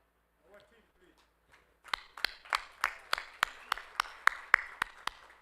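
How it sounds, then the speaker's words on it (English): Audience clapping for Edward at a 2025 venom research conference: a run of sharp, evenly spaced claps that starts abruptly after near silence and keeps a steady beat. "Let's give Edward a round of applause."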